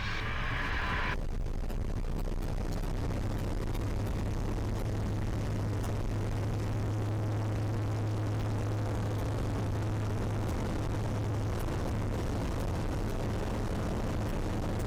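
A Eurofox microlight aircraft's engine runs at full takeoff power, a loud, steady droning roar that holds throughout without voices.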